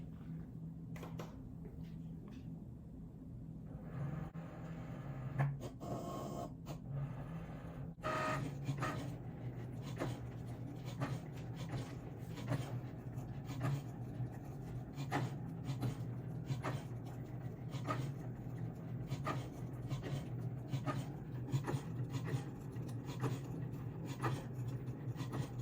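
A cutting machine slices a handwritten-note design on a cutting mat for a Father's Day gift, a steady low motor hum under a long series of quick clicking and scratching strokes, close and continuous with no talk.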